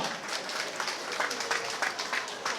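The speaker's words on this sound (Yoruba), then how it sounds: "Ẹ jẹ́ bá wa pàtẹ́wọ́ fún un." Audience applause for a Miss Yoruba contestant at a Yoruba Day pageant, steady moderate clapping from a crowd throughout, with faint voices mixed in.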